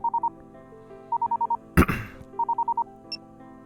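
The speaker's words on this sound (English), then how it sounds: "After ringing for a while, Emma answered the phone." An outgoing call placed through a messaging app rings in three clusters of rapid electronic beeps, steady and evenly spaced, with a brief loud rustling burst between the second and third clusters.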